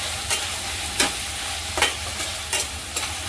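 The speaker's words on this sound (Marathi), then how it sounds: "कांदा टॅमॅटो अद्रक लसूणची पेस्ट हे छान परतून घ्यायचे" Onion, tomato and ginger-garlic paste are sautéed in a pan for a mixed-sprout usal, with a spoon scraping in regular strokes over a close, continuous sizzle. Nobody speaks.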